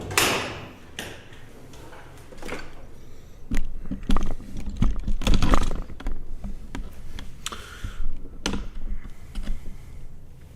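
A 10mm ratcheting wrench clicks in short irregular bursts of sharp ticks, close and moderately quiet, with scattered handling noises between the clicks.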